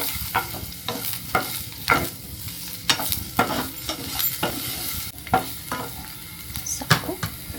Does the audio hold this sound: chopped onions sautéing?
yes